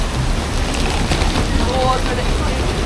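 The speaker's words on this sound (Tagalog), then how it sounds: "Ayan na nga, ang lakas ng ulan." Heavy rain pours down steadily in Macau, a dense, constant hiss of downpour filling the scene without a break, with faint voices underneath.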